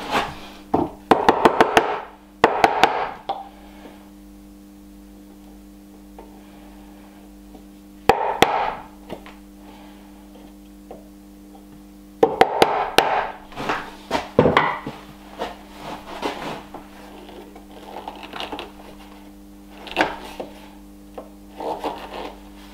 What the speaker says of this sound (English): I'll use a chisel to make it a little bit deeper.